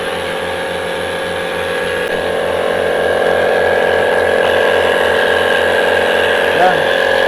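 Two 12V dual-cylinder tire inflators, an Ingco and a Total, running together with a steady, loud mechanical chatter and a rapid rhythmic pumping under a constant whine, unbroken throughout.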